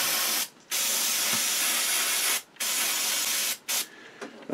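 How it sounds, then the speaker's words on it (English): Contact cleaner hisses from an aerosol can onto a motor in three long, loud bursts separated by short pauses, followed by a few quick spurts. "let me spray that with a little bit more contact cleaner"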